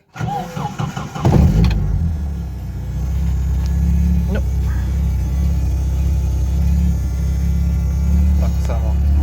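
A car with a check-engine light on cranks and fires up, its starter whirring briefly before the engine settles into a steady, loud, low idle that runs close by until the end, with a few faint clicks over the hum.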